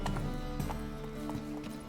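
Hoofbeats ring out as Roach, the horse in The Witcher 3 video game, gallops. The beats come quick and rhythmic in a brief, close burst over a steady background.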